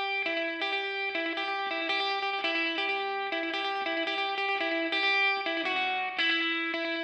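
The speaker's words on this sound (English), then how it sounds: "and then you've got a lead part doing this." An effects-laden electric guitar plays the repeating lead line from a song, with bright, chorus-tinged single notes in a steady, loping pattern throughout, without talk.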